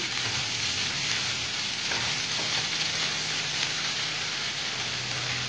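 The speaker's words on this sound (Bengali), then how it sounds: "এবার এটা একটু নেড়ে চেড়ে নিচ্ছি।" Bombay duck fish frying in a pan while being stirred, a steady close sizzle with soft scraping throughout, no voices.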